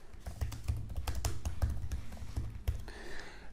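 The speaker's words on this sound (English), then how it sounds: "here you can type the question in the box here" Someone types on a computer keyboard, a quick close run of crisp key taps with an irregular rhythm, heard alone without talk.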